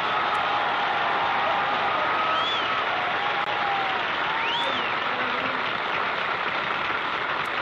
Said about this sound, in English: Not enough applause, but it's not enough.